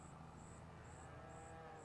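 Cows mooing in the farming game Farming Simulator 25, a low, sustained lowing under a steady hum of game ambience, with a faint repeating high chirp running through it.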